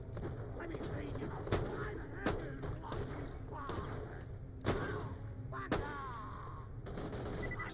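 Sniper rifle shots ring out in the video game Fallout 4 in survival mode, several sharp cracks at irregular intervals over a steady background of game noise, with a voice talking throughout.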